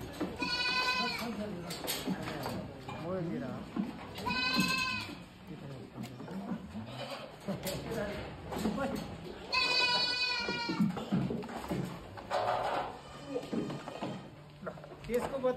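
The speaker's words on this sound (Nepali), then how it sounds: "तपाईँहरूले देख्न सक्नुहुन्छ यहाँ प्रशस्त मात्रामा चाहिँ गोड जातको बाख्राहरू बोकाहरू चाहिँ यहाँ प्रशस्त मात्रामा छ" Goats bleat on a goat farm in Jinabang, Rolpa, with several loud, close, drawn-out calls spread across the scene, while people talk throughout and occasional thumps sound in the background.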